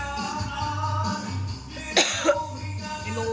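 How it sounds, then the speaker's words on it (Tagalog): A person with a sore, swollen tonsil gives a short harsh cough over a low background hum and tones, followed by a smaller second catch in the throat. "Inuubo din kasi ako"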